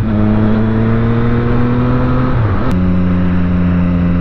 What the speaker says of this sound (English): I really do like the tone on this exhaust pipe.